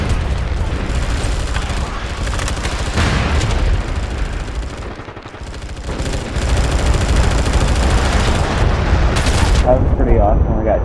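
Gunfire in a first-person shooter, dense bursts of shots and booms running continuously at high volume, with a voice talking over the noise at times.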